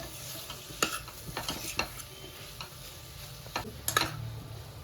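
Bitter gourd curry stirred in a pan after chilli powder goes in, with a low sizzle under a handful of sharp spoon scrapes and clicks spaced irregularly, close by.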